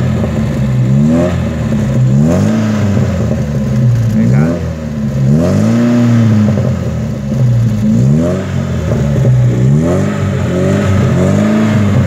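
A Chevette engine breathing through a JK muffler with a 3-inch tip revs up and down repeatedly, loud and close, in steady surging cycles that rise and fall throughout.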